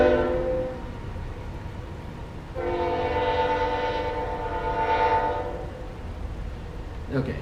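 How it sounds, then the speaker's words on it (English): A train passes on tracks near a house, sounding long, loud horn blasts: one sustained blast, then a second swelling one. A low rolling rumble runs underneath, and the horn fades near the end. "here comes the train"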